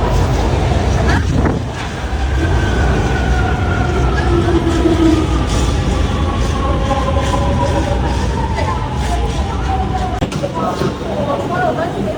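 Subway train at an above-ground station in China, a steady rumbling roar with long descending whine tones as the train moves, loud and continuous with people talking over it.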